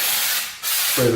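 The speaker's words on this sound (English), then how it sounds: "I'm going to just come in and spray it from a distance" Two close bursts of hissing aerosol wall texture spray onto patched drywall, separated by a brief pause, with a low hum starting near the end.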